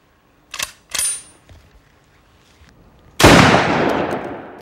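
A Browning Auto-5 semi-automatic shotgun is handled with two sharp metallic clicks, a pause, then a loud burst of harsh broadband noise as the action cycles and chambers a new cartridge, sounding close and alone.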